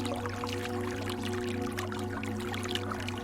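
Stream water flowing steadily through a forest, a constant close rushing and trickling wash with no pauses and no voices.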